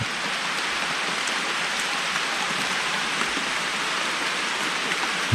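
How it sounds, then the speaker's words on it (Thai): Rain falls steadily through a forest at night, a dense, even hiss of drops on surfaces close by with no pauses or voices. "ทุกคนได้ยินเสียงไหมครับฝนตก"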